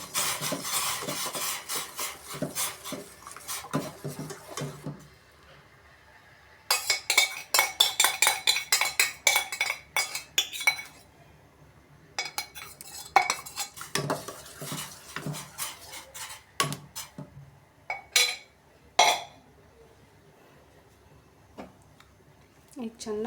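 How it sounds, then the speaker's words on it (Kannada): Ragi flour paste stirred into hot water in a pot, heard as bursts of rapid, rhythmic metal scraping and clinking of a spoon against the pot, separated by pauses, with talk in between. "ಇದನ್ನು ಈ ಬಿಸಿನೀರಿಗೆ ಹಾಕಿ ಮಿಕ್ಸ್ ಮಾಡಬೇಕು"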